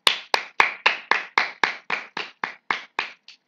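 A single person claps about a dozen times in a steady, even rhythm, each clap crisp and close with short silent gaps between, the first few slightly louder and the last one fainter.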